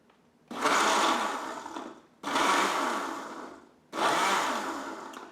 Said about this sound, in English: Usually you have to pulse your blender at the onset.